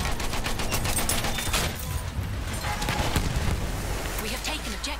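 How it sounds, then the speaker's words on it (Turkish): Machine gun fire in Battlefield 1, rapid bursts of rattling shots over dense battle noise, with a voice faintly audible in the mix. "Dikkat eyleyin, makinalı tüfek."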